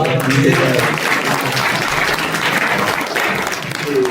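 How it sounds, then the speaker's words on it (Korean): Applause from the audience at a book concert in a defense convention center, steady and loud, sustained clapping throughout, with some murmured voices mixed in. "박수 한번 해주시죠."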